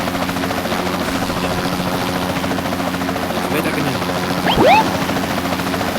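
A helicopter in a video game gives off a steady, loud rotor drone throughout, with a speaking voice briefly over it and a short rising whistle near the end.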